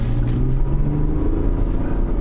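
A Genesis GV80 3.0 diesel accelerating in sport mode gives a steady, loud low rumble and engine drone, heard from inside the cabin with no talking.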